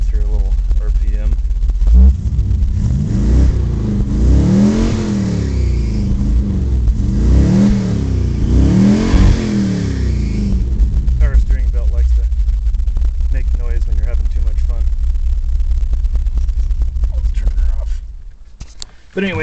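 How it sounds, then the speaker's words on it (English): A car engine revs up and down several times in rising and falling sweeps, then settles into a loud idle before cutting off. "Let's hear a little RPM."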